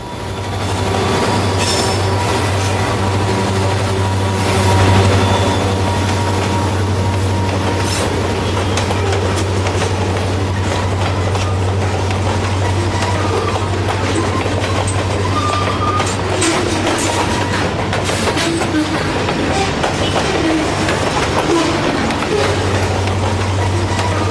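A model train rumbles steadily past on a layout with rhythmic clickety-clack of wheels on track and occasional faint squeals, a continuous close mechanical drone.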